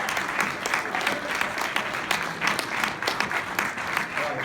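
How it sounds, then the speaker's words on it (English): A crowd applauding at a motivational talk, fast dense clapping with rhythmic surges, steady and loud throughout. "they need a round of applause right now."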